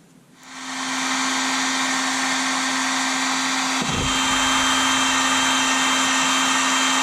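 A heat gun blows hot air over heat shrink tubing on a corroded Porsche Cayenne wire harness, a loud steady whooshing drone that starts abruptly and holds constant with a steady hum beneath.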